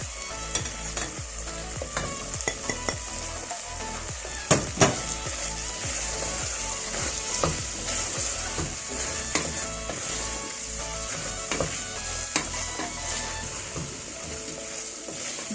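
Spices including cumin, garam masala, turmeric, black pepper, oregano and cayenne fry in a hot pan for a lamb and potato curry, giving a steady close sizzle with occasional sharp stirring clicks and scrapes throughout.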